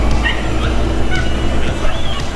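Dogs bark and yip in a lively San Francisco residential neighborhood, short scattered barks at moderate distance over steady street and city background noise.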